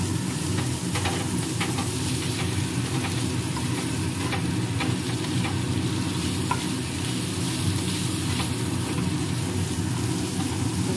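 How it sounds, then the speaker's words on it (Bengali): Chicken pieces frying in a pan on a gas stove for a pizza topping, a continuous dense sizzle with faint stirring scrapes throughout, close and steady with no voices. "চিকেনগুলো ছেড়ে দিয়েছি, কারণ চিকেনগুলো ভাজা ভাজা হয়ে গেছে"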